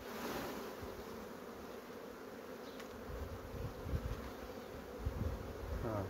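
A soft, continuous buzzing of many bees close by at an open hive during cleaning, steady and quiet, with a few light rustles and knocks.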